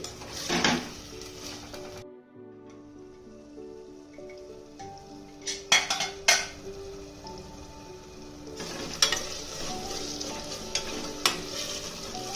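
Tomatoes cook down in a curry pan with a soft sizzle, while a spoon scrapes and clinks against the pan in irregular bursts of stirring. A brief quiet gap falls early on.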